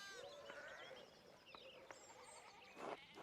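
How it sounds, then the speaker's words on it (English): Sheep bleat in the video game Pentiment, several quavering calls in quick succession at moderate distance, mixed with other faint farmyard sounds and a low background. "Why is there so much fucking sheep?"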